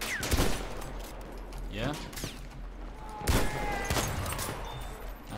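Machine gun fire in the World War I shooter game Battlefield 1, a few loud sharp bursts over a constant rumbling battle din, with a player's voice speaking briefly over it.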